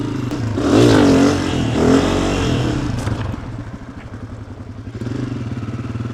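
Four-stroke 250F dirt bike engine revs loudly up close, rising and falling twice before settling into a throbbing idle and lifting again.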